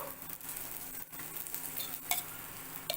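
Flatbread sizzles on a hot griddle with a soft, steady frying hiss close by, broken by a brief scrape and a light tap as it is flipped over, with no speech.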